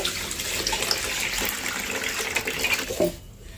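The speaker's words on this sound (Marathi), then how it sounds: "पुन्हा यामध्ये कपडे टाकते आणि पुन्हा एक बादली पाणी टाकते" A bucket of water poured into a small washing machine with clothes, a steady close splashing rush that runs on and then cuts off abruptly near the end, with no voices.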